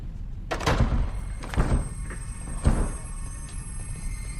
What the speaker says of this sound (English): you've broken the door